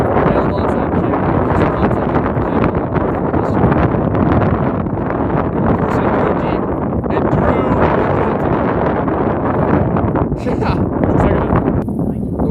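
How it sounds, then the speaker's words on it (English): Strong wind buffets the microphone at an outdoor football game, a loud, constant roar and rumble filling the whole stretch with no break, while a commentator talks over it. "The wind is very strong right now."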